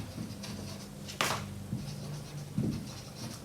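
Chalk or marker writing on a board during a mathematics lecture, a few soft strokes and taps separated by pauses, with one sharper knock, over a faint low room hum.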